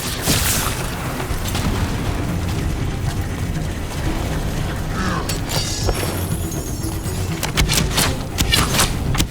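Enemy gunfire in a battle from the Dragon Age: The Veilguard video game, with loud dense bursts and booming impacts over continuous combat noise, sharper cracks clustering near the end.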